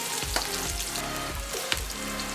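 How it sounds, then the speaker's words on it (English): Garlic and onion saute in a pan for a creamy Filipino-style chicken mushroom dish, making a steady, close sizzle with a few scraping stirs and light knocks. "Next, we're going to saute garlic and onion."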